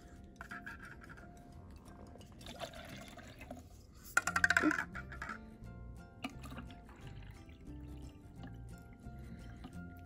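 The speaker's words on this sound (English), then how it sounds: "just dump your water in" Water splashes and trickles into a container for a homemade lava lamp, with a brief louder gush in the middle and quieter dripping and sloshing around it.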